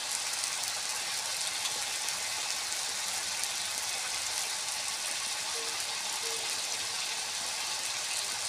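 A continuous dense hiss of heavy rain falls outside, steady and unbroken throughout with no voices.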